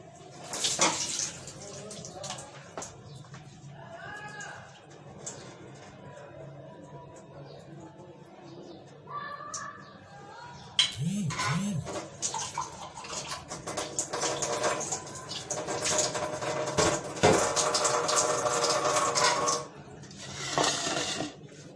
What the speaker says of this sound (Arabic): وهنا بقى البرغل هصفيه في المصفى واعصره قوي واضيفه على اللحمة.